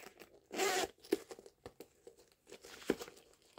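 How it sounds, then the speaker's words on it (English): A zipper on the back of a vintage bag with brass-tone hardware is pulled in one quick, crisp run, followed by softer rustling and small clicks of handling, close and quiet. "Zipper on the back."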